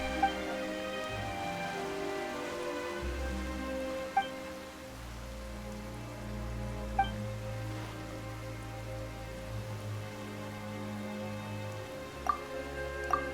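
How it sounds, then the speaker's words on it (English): Sudden rain in Genshin Impact patters steadily on surfaces alongside a sustained musical drone and tonal score, with occasional bright chime-like accents and no voices. "Why is it raining all of a sudden?"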